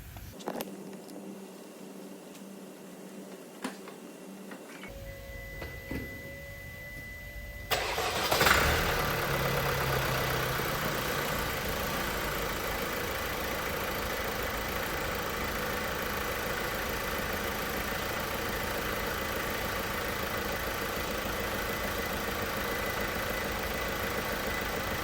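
A Vauxhall Insignia 1.6 CDTI diesel engine cranks and fires after some quiet clicks, then settles into a steady, even idle that continues for the rest of the clip without talk.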